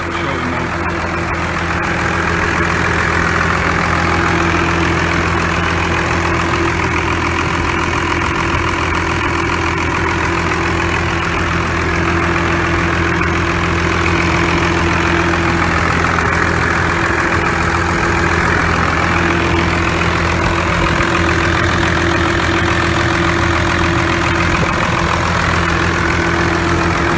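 A 12-valve Cummins diesel in a 1996 Dodge Ram 4x4 idles steadily, a continuous loud low rumble with a faint clattering knock, holding an even level for the whole stretch with no talk over it.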